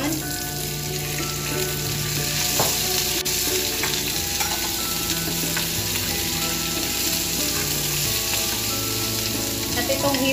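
Shrimp fry in garlic for sizzling gambas, giving a steady, close, loud sizzle with crackling spatter and occasional scraping as the pan is stirred.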